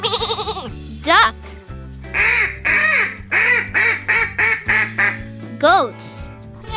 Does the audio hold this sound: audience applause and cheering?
no